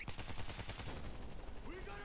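Rapid gunfire from a first-person zombie shooter, World War Z, a quick run of crisp repeated shots in a steady rhythm, moderately loud, with game voices and effects mixed in.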